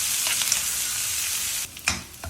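Onions sauté in a pan on the way to a moong dal lunch dish, giving a steady close sizzle that drops away near the end, followed by a brief stirring clatter.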